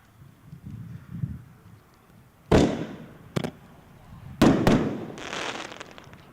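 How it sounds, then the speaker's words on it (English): Deadly Gaze reloadable firework shells burst outdoors at a dealer show in several loud, sharp booms separated by quiet gaps, with crackling tails after the later bursts and faint background chatter early on. "the first reloadable is going to be called Deadly Gaze"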